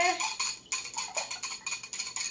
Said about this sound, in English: we're going to whisk those together